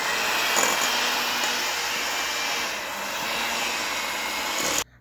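An electric mixer creams butter and sugar for chocolate Christmas cookies, whirring steadily and loudly for about five seconds before cutting off abruptly at the end.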